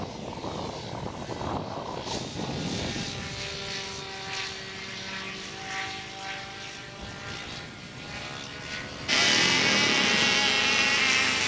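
A model airplane at a 1997 NWA flying event flies overhead with a thin, high propeller whine that rises and falls steadily throughout, growing louder and harsher near the end as it passes closer.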